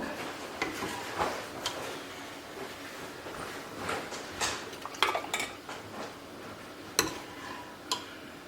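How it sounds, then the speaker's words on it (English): A pot of sour cherry jam is lifted and shifted, metal clinking and clattering in scattered knocks and taps with a few sharper clanks, close by with no talk. "I'm gonna have to pick this pot up a bit."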